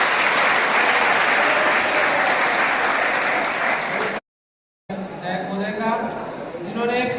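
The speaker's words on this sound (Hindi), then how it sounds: "एक बार जोर से ताली।" A school-event audience applauds loudly with dense, sustained clapping that cuts off abruptly, then someone speaks over a hall's background chatter.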